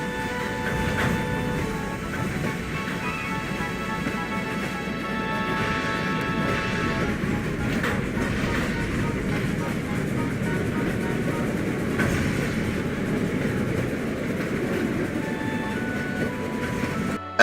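A train rumbles steadily along the rails with a continuous mechanical roar and faint rattling, no talk over it.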